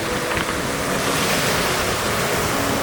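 Steady wash of waves on a rocky Canadian beach, a constant broadband roar with some wind buffeting the microphone, close and unbroken.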